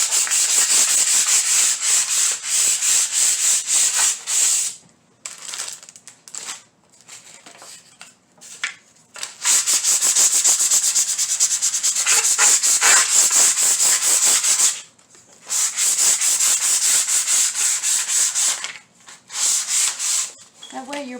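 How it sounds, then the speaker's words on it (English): Sandpaper rubbing over the back of a small wooden craft box in long, steady, harsh scratchy strokes with brief pauses between passes, loud and close, no voices. "Now just run your sandpaper over"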